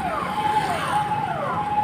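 A police car siren wails in a steady rising and falling tone, moderately loud over traffic rumble on a street.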